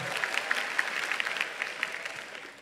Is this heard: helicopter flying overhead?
no